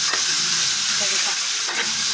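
Ingredients sautéing in a pan, a loud continuous close sizzle and hiss with a couple of soft stirring scrapes.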